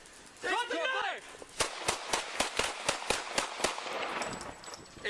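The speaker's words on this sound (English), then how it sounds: "Officers fired a total of 11 rounds at this guy." Police officers fire about eleven gunshots in a quick, sharp, evenly spaced volley right after someone shouts, with echoing reports fading into street noise.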